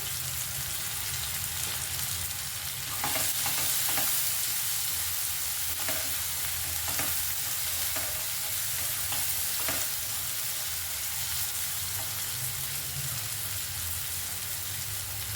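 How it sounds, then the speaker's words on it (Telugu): Onion fries in oil in a pan, giving a steady close sizzle with a few brief stirring scrapes. The hiss stays dense and even throughout, with no talking. "ఉల్లిగడ్డ ఫ్రై అయిందండి"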